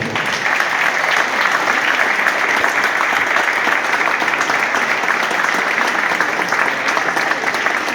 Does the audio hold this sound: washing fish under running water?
no